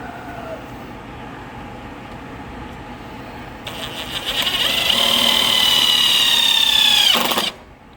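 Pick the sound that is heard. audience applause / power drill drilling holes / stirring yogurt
power drill drilling holes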